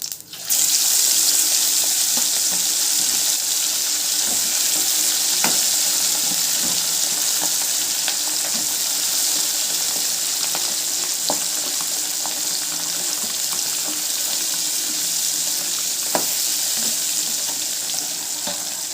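Steady, loud sizzling of fish frying in hot oil with curry leaves, a continuous bubbling hiss with occasional pops and crackles, no voices.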